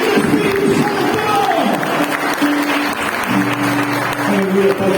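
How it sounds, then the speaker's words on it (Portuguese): A church congregation applauds during an evening Holy Communion service, a dense, sustained wash of clapping with sustained musical tones underneath. "Aceita, Senhor Jesus Cristo, o nosso aplauso, porque te aplaudimos para a glória do teu nome."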